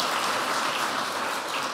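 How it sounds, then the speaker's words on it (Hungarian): A church congregation gives a short burst of applause during a Hungarian service, a brief, even wash of many hands clapping without any voice over it. "És még egy tapsot adjunk azoknak"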